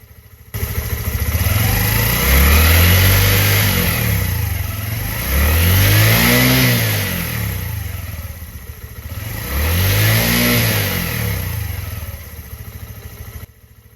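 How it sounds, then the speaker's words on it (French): A motorcycle engine revs up three times during a charging-system and stator test, each rise climbing to about 300 rpm and then falling back. The loud, close revving runs throughout with no talk. "Maintenant, on va accélérer jusqu'à 300 tours minute."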